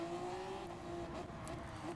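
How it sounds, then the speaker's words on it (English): Race car engine held at maximum output in Gran Turismo 7, a steady loud drone with a sustained whine and slight pitch shifts, running continuously without talk. "we're able to run the engine at its max output"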